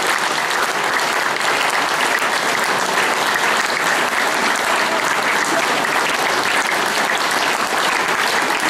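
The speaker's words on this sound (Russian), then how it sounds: "Ваши аплодисменты." Dense, even applause fills a concert hall after opera singers are introduced at a gala show, a continuous wash of many hands clapping with no pauses and barely any voices.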